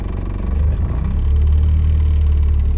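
A car engine catches and settles into a steady, loud low rumble that builds slightly, then idles evenly close by.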